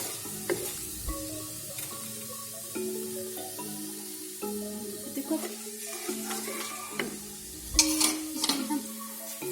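Whole garam masala spices fry in hot oil for lamb karahi, a steady close sizzle with stirring scrapes and occasional clinks of a metal pan, no talking.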